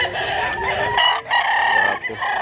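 A bullstag fighting cock crows close and loud, a drawn-out raspy call with a couple of short breaks, alone in the recording.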